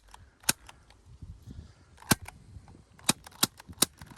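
Sharp, dry pops of a Crosman C11 plastic CO2 air pistol firing on a nearly empty gas cartridge, about seven shots at irregular intervals, close by with faint handling noise between them.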